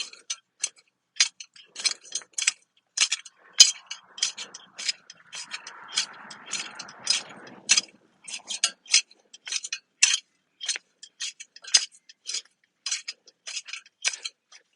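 A garden fork works fertiliser into freshly dug soil in a home vegetable bed, giving a steady run of short, close scraping clicks and crunches with a brief rougher churning patch midway.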